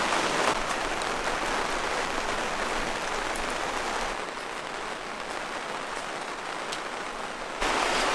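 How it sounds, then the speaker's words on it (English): Steady rain patters outside a greenhouse, a dense, even hiss of drops with no voices, easing slightly midway before returning stronger near the end. "It's raining outside. Really nasty weather."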